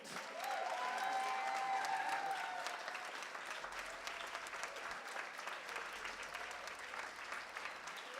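Sustained audience applause fills a concert hall after a big band performance at a battle of the big bands, a dense steady roar of many hands clapping with a faint voice or two underneath.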